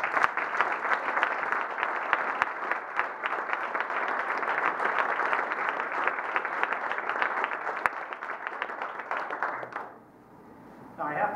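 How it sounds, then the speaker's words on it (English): A large audience at a Rotary club meeting gives sustained, dense applause for the outgoing club president, steady and loud for about ten seconds before fading out abruptly. "let's all give Jim one more big round of applause"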